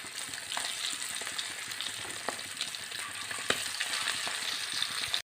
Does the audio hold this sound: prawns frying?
yes